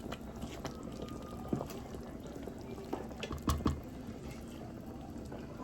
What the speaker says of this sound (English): Okay, we are simmering.